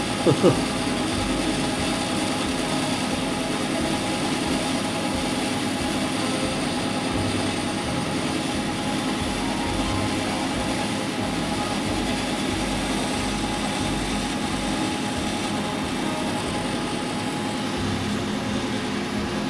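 A machine cuts a steel connecting rod for a vertical model steam engine, giving a continuous, even mechanical hum and whir throughout, with someone speaking over it.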